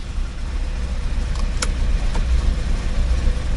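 A Chevrolet Camaro V8 that has stood unused for ten years runs steadily with a low, rumbling idle, with a few brief clicks over the engine.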